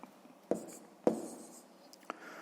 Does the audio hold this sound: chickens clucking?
no